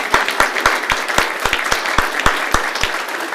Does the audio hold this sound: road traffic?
no